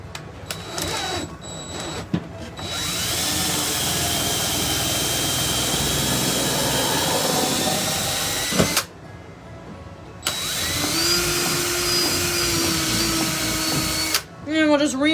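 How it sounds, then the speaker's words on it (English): A drill whines steadily as it reams screw holes in pallet wood, running in long continuous bursts that stop and restart, with brief speech in between. "And we'll just ream our holes a little bit."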